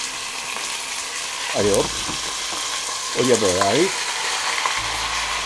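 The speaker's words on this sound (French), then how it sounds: "Alors maintenant, on va mettre le poulet à dorer." Chicken pieces browning in a frying pan for a curry, a steady low sizzle throughout with a couple of brief scraping and stirring sounds, while someone speaks French briefly.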